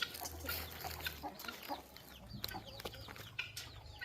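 Household chickens cluck and call in scattered, uneven bursts, faint and somewhat distant, over a soft background hum.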